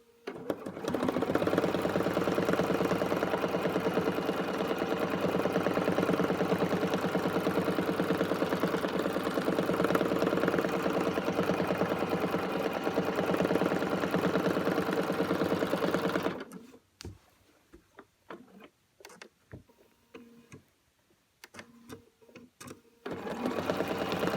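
Sewing machine quilting a wildflower pattern, a steady rapid mechanical stitching hum for about sixteen seconds, then sparse short bursts of stitching with pauses; close and loud, no talk.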